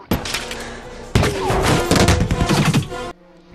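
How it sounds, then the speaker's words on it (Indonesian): A gunfight in the film Mesrine: a dense barrage of sharp, loud shots and impacts that begins abruptly, runs for several seconds, then cuts off to quiet. "Mesrin dan Jian pun semakin kewalahan setelah mendapatkan beberapa tembakan"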